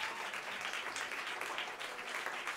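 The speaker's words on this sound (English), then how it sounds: "A round of applause for the purple ensemble." Audience applause fills a concert hall at a Berklee graduate orientation concert as an ensemble is welcomed on stage: a dense, steady wash of many hands clapping at moderate volume, sustained throughout without a break.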